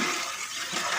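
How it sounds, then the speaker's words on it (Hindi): Boiled rice pours into a pan of melted sugar syrup for sweet zarda rice, a brief, close, wet rushing and sloshing that lasts about a second, loud and steady with no talk. "अब जो हमने चावल बॉयल किए थे वो इसमें डालेंगे।"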